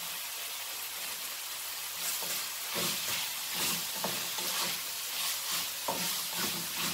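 Masala of Kashmiri red chili powder and cumin seeds frying in hot oil, a steady close sizzle with intermittent stirring scrapes and clatters throughout, no voices.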